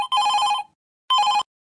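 A telephone rings twice in a cartoon, each bright electronic burst close and loud with a short gap of silence between them, no voices present.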